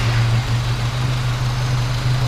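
A 1971 Dodge-Mitsubishi Galant Colt engine idles close by with a steady low, throbbing hum and an even rhythmic pulse, loud and unaccompanied by voices.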